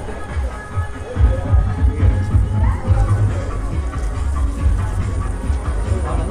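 Crowd of devotees at a Hanuman and Jogeshwari Devi temple in Vasai, a dense rumbling murmur of many voices and shuffling, steady and fairly loud throughout.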